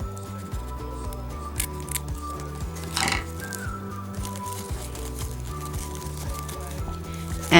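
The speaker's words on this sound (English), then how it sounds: "So you just fold it in half and then cut towards the fold." Scissors snip through a folded length of Dollar Tree ribbon to cut a dovetail end on a bow for a St. Patrick's Day door wreath. The close, crisp cutting sounds repeat in a quick, uneven rhythm over a busy background.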